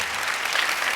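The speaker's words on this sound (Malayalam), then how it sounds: "ഒരു അടിപൊളി കൈയടി" A studio audience at a comedy show breaks into applause for a folk song, with a brief, dense burst of clapping.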